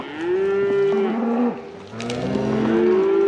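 Cows mooing while being driven through deep timber, several long, loud, nearby bellows with overlapping calls from more than one animal and a brief lull in the middle.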